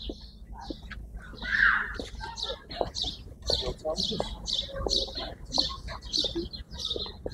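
Birds chirp and tweet repeatedly near a bird park on a sunny day, with some fowl-like clucking mixed in, over a busy outdoor background with people talking.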